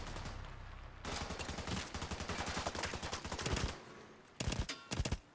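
Gunfire from The Division 2 video game rattles in rapid automatic bursts, a long sustained string followed by a pause and two shorter bursts, sharp and moderately close, with no talking.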